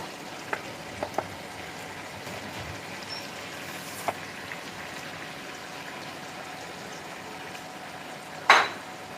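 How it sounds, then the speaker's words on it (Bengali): Marinated paneer is eased into a hot pan for a curry-leaf paneer dish, giving a steady, soft sizzle and crackle with a few small spatters and a sharp utensil clink near the end. No voices are heard. "এবার আমি পনির যে ম্যারিনেট করে রেখেছিলাম ওটা আমি এর মধ্যে আস্তে আস্তে করে দিয়ে দিচ্ছি।"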